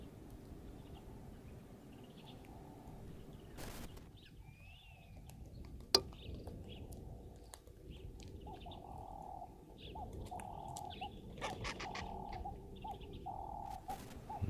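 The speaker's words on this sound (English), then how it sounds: "We do have some awesome bird chorus as well at the moment. Lovely doves." Doves cooing in a lively outdoor bird chorus: soft repeated coos come in short phrases under scattered chirps and tweets from other birds, moderately distant, with a sharp knock partway through.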